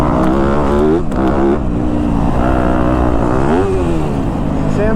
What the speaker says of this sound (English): Sam's second time on the big bike on the KX250.